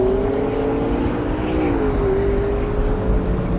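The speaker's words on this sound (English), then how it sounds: "this is how long it takes the McLaren 650S to go from 0 to 100 miles an hour." McLaren 650S accelerating from 0 to 100 mph, a loud continuous engine roar whose pitch climbs and then dips briefly at a gear change before rising again.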